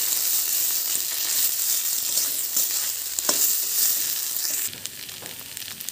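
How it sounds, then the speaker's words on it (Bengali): Elephant foot yam leaves fry in a pan while being stirred, a steady bright sizzle and crackle with occasional scrape of the utensil, close and continuous without speech. "ভালো করে এটাকে নেড়ে চেড়ে ভেজে নিতে হবে যতক্ষণ পর্যন্ত না কালারটা একটু চেঞ্জ না হচ্ছে"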